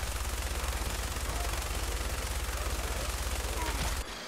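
A minigun fires in the video game Fallout 4, a loud, unbroken, rapid stream of shots that rattles on for about four seconds before cutting off abruptly.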